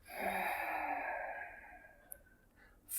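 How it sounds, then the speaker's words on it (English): One long, full exhale during kapalbhati skull-shining breathing, a close breathy rush that swells quickly and then slowly fades over about two seconds, ending in a brief sharper breath. "Full and long exhale."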